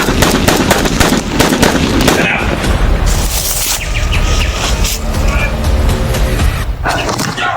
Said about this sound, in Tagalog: May nagpapalitan ng putok, tol.